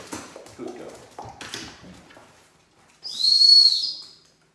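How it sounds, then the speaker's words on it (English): A dog training whistle gives one sharp, high, steady blast lasting about a second, sounding alone after a trainer speaks quietly to a dog. "So the whistle just simply, and I'm going to show you again in a moment without the SIT."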